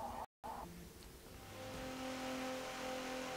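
A trophy truck lapping the Suzuka circuit in Forza Motorsport 7 produces an engine note that dips briefly and then builds to a sustained, steady drone with tonal harmonics, heard alone at modest level.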